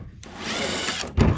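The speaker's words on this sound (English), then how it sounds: "The power wrench." A power wrench runs in a short whirring burst during chassis removal on a 1957 International Harvester Metro truck, loud and close, ending with a sharp rattling impact at the end.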